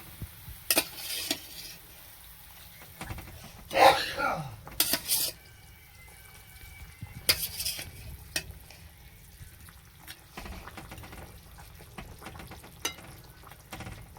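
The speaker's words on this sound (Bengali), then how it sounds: "ঝোলটা ফুটে গেছে, এবার মাছগুলো তুলে দিচ্ছি।" Fish pieces go into a boiling curry gravy in a pot, with a few sharp metallic clinks and scrapes from utensils over a low, faint bubbling and simmer that runs through the stretch; no one talks.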